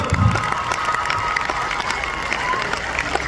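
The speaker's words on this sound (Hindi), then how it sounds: "जोरदार वाली तालियां बजाओ" A school audience at a poet's show breaks into loud applause mixed with crowd noise and scattered cheers, a busy continuous din lasting a few seconds with a low thump at the start.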